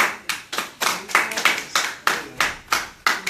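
Candidate forum audience claps in a quick, brisk burst of sharp hand claps, close and fairly loud, with no talk over it.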